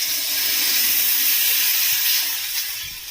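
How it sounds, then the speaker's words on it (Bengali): Water poured into a hot pan of fish roe for a raw mango curry, giving a loud, steady steaming hiss that holds for the whole stretch with no talking. "একটু নাড়াচাড়া করে নিয়ে এবার আমি জল ঢেলে দেব।"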